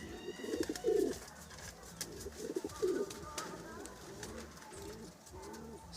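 Older pigeons kept in a loft and flown outside coo in repeated low, throbbing bursts, close and fairly steady, with scattered faint chirps and light background noise between the phrases.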